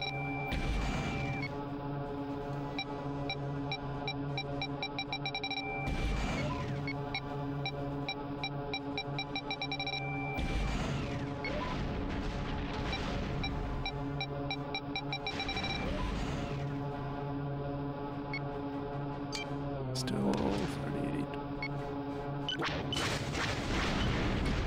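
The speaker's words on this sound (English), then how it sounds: "Missile, I think. Several missiles, in fact." Missile explosions in X-Wing Alliance burst out every few seconds as deep booms over a droning, tonal engine hum, with a final cluster of blasts near the end.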